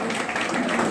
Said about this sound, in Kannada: ಚಪ್ಪಾಳೆ ಮುಖಾಂತರ ಈ ವಿದ್ಯಾರ್ಥಿಗೆ ಗೌರವಿಸಬೇಕು.